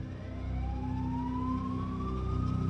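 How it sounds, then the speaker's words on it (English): Emergency vehicle sirens wail steadily and loudly in a continuous rising tone over a low engine rumble, heard while paramedics and EMTs approach during a 911 call. "I think I hear sirens now"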